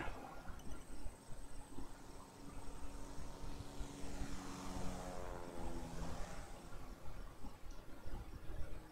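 Propeller airliner taking off from an airport runway in the game Airport CEO, a steady engine drone swelling to a sweeping pitch shift around the middle as the plane passes, continuous and moderately loud throughout.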